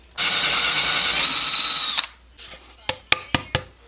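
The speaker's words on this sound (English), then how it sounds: "So let me get it in the drill and we'll give it a shot." An electric drill bores a hole in a guitar pickguard, whining loudly and steadily for about two seconds before stopping, followed by several sharp clicks and taps close by.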